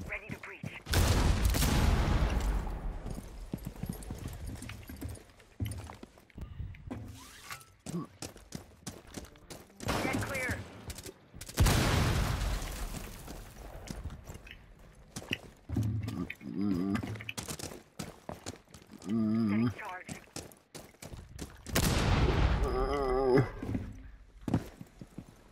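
Video game gunfire in a shooter match: loud bursts and rapid volleys of shots come in repeated waves, with quieter gaps, mechanical clicks and excited talk in between.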